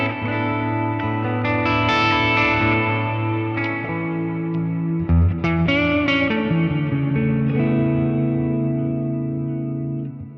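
An electric guitar played through a Line 6 Helix Stadium XL with heavy reverb, sustained distorted chords and notes ringing into a long washy tail, loud and alone with no talk.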